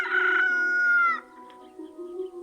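A rooster crows once, loud and close, a long strained cock-a-doodle-doo that cuts off sharply, followed by softer clucking and low farmyard sounds.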